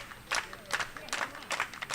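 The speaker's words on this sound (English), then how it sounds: "The slow clap, usually heard at Doran Park, starts up on the road." A baseball crowd at an away game starts a slow clap: about five evenly spaced, moderately distant bursts of group clapping over a low murmur of crowd noise.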